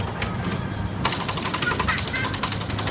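Pneumatic impact wrench on a car wheel nut during a timed tyre change challenge at Ferrari World Abu Dhabi. It gives a loud, fast, steady rattling hammer that starts abruptly after a quieter moment and runs continuously, close up.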